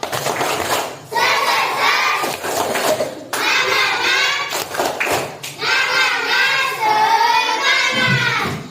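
A school class performs the rhythmic Indonesian 'tepuk semangat' clap routine, with loud bursts of group clapping in patterned sets interleaved with children chanting and speaking, close and energetic.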